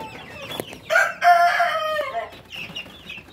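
Rhode Island Red breeder chickens close by: a rooster crows loudly in a drawn-out call amid sharp clucks and cackles from the hens on the farm.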